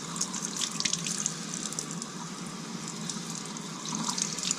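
Tap water runs steadily into a kitchen sink while venison jerky strips seasoned with garlic and salt are rinsed under it, a constant close hiss and splash with no speech.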